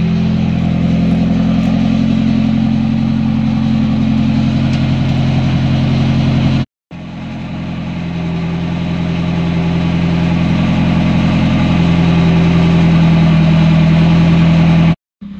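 A Nissan 240SX S13 engine idles steadily and close by with a low, even hum, broken by two brief dropouts as the idle falls and is given a little gas; the car has a brake booster vacuum leak.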